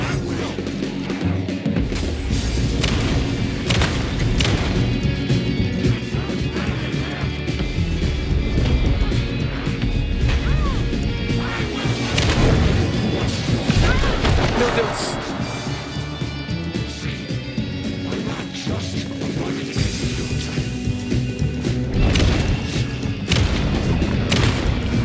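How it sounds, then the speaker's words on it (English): Bomb blasts in the video game Alan Wake 2, Night Springs episode: loud booming explosions and crashes over dense game music and effects, with rumbling low end throughout. "Aqui é uma bomba, gente. Chega perto,"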